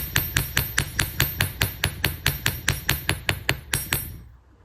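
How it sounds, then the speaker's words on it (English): Small hammer tapping a wire-wrapped briolette earring into shape, about eighteen quick, even metallic taps in a steady rhythm that slow slightly and stop, close up with no talking. "all that took was a few little hammer hits"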